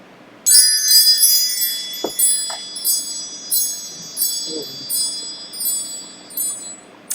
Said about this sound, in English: Let's call in Spirit with some chime time.